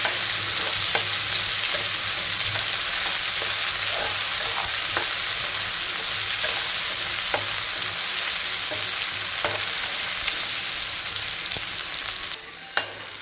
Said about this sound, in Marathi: टोमॅटो चांगला भाजून घेतला आहे आता ह्यात आपण हे केलेलं वाटण टाकून घेऊ